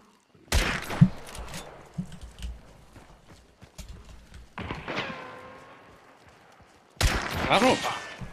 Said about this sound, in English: I don't know what y'all are shooting, but like, sounds fucking scary